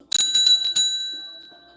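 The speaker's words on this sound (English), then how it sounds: "So the bell has rung" A small bell struck a few times in quick succession, bright ringing strokes followed by a long, clear ring-out that fades away, with no voices.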